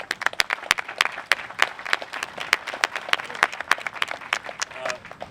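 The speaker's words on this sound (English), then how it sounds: "So give them a round of applause." Gold Star families at a Korean War memorial ceremony receive applause from an outdoor crowd, with dense overlapping claps and sharp individual hand strikes continuing steadily throughout.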